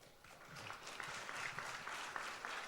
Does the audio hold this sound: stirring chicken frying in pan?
no